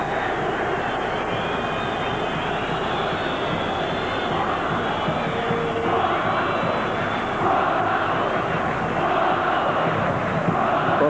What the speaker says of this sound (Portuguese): A torcida do Corinthians continua protestando aqui no Pacaembu